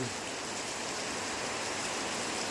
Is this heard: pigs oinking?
no